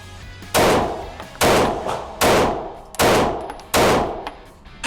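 Five loud Smith & Wesson CSX pistol shots fired at 7 yards on an outdoor range, evenly spaced under a second apart, each with a sharp crack and a long decaying echo.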